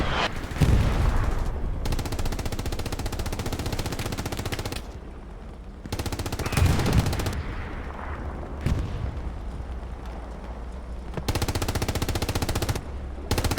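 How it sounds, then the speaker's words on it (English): Heavy artillery and gunfire rumble through a competitive online war-game match on the Foy map, sustained loud bursts and booming barrages filling the scene with brief quieter lulls between volleys. "artillery is doing a number on these poor people"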